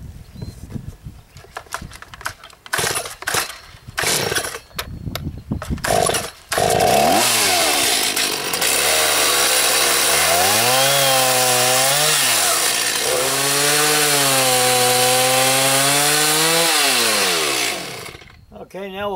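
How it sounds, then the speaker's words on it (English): A saw, likely a chainsaw, cuts the corners off a wood block being prepared for a lathe bowl. Brief handling clatter comes first, then a loud, close engine roar that rises and falls in pitch as the cut proceeds before it winds down. "I'm going to take the saw, cut the corners off to kind of even it up"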